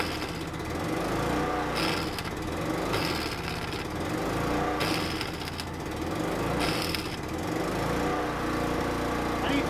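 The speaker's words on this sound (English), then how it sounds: "I need some RPM on that welder." An engine-driven welder runs steadily at a farm while old 1960s tractors are being repaired, a continuous loud mechanical drone with some rattling, rising in hiss at intervals, with faint voices beneath.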